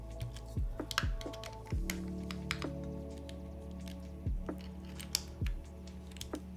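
Keycaps are pushed onto a mechanical keyboard one after another, producing soft snapping clicks at an irregular pace, close and fairly quiet over a steady electrical hum.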